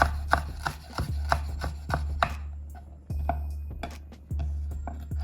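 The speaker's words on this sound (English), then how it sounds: "I will try to fine chop this chili" A knife finely chopping a very hot chili on a cutting board, with quick rhythmic close-up chops in bursts and brief pauses between, no talking.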